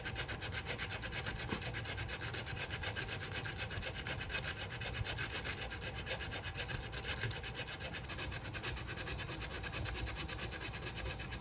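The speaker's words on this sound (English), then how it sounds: "I am sanding the cavity of the control panel because the 9-volt battery won't fit" Steady, continuous sanding of the wooden control cavity of a bass guitar body, a close rasping scrape running unbroken with no talk.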